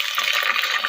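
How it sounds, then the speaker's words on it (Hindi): A short, steady splash of water being poured into a cooking pan while making Peshawari chana mewa pulao, close and moderately loud. "अब हम इसमें थोड़ा सा पानी ऐड कर देंगे।"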